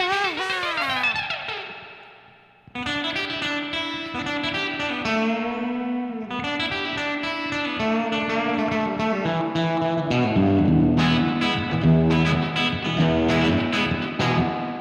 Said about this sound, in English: I just love that classic spring reverb